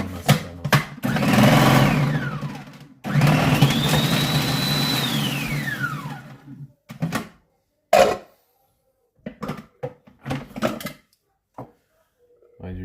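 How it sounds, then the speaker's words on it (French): An electric food processor mincing vegetables whirs up and winds down in two long motor bursts, followed by scattered clacks and knocks from the bowl and lid. "je vais l'émincer en direct avec le robot"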